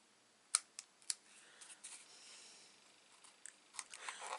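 Scissors snipping a paper overhang on a stationery box, several sharp close clicks early and again near the end, separated by softer rustling of paper in a quiet room.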